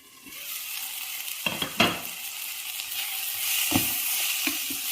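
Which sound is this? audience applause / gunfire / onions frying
onions frying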